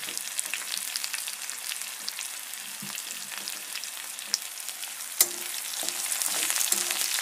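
Onion frying in a pan, a moderate crackling sizzle with scattered pops and a few sharp clinks of stirring, steady throughout with no voices.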